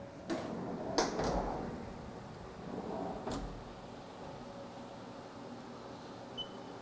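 The doors of a Haas machining center slide shut in a workshop, giving a few sharp metallic clacks and a rolling rumble over a steady machine hum. A couple more knocks and a faint high tone follow.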